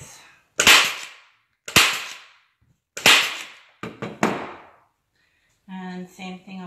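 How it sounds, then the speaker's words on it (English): Four sharp staple-gun shots, the last a quick double, drive staples through upholstery fabric folded into a tight corner on a chair seat, each crack close and loud with a short decay, before a brief voiced sound at the end. "fold it under once to make a nice tight corner and staple it into place"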